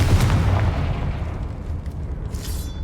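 Confringo blasting curse in Hogwarts Legacy, a single heavy close explosion booming at the start and rolling off into a fading rumble with a faint magical shimmer near the end.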